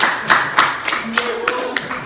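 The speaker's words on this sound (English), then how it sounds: "A round of applause for him," Several students clap in a calculus classroom, giving seven or eight distinct, fairly loud claps in an uneven rhythm with a little speech mixed in.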